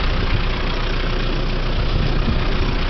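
A twelve-year-old New Holland tractor engine idles on a farm, a loud, steady low rumble with a faint knocking texture, close and continuous with no voices.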